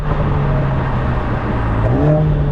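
A 2021 Mercedes-AMG GLA 45 compact SUV under hard acceleration, a loud, steady engine and exhaust drone that drops in pitch at an upshift, with the ignition cut producing exhaust pops.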